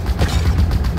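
Rapid automatic gunfire in Halo Infinite co-op combat, a dense burst of quick, evenly spaced shots with low thumping punch, loud and up close, lasting about a second.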